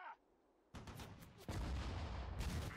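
Artillery cannon fire in the Sudden Strike 4 strategy game, Battle of Sedan May 1940: a loud booming blast kicks in after near silence, followed by a second heavier burst and sustained rumbling explosions.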